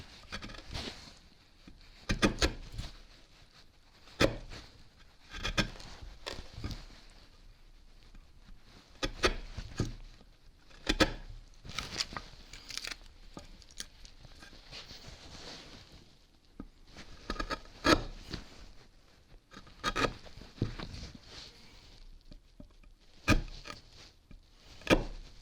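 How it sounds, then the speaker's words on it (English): Chisel paring and tidying wood on a guitar body after hogging out material with a pillar drill, giving irregular close taps and scraping strokes in bursts with brief pauses, no talk. "I'll just tidy up these bits quickly with a chisel"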